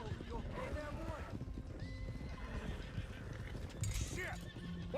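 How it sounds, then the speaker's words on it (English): Stallions gallop and neigh in Red Dead Redemption II, with continuous hoof clip-clop and a couple of whinnies rising over it, and voices talking throughout the dense mix. "One of the stallions is loose."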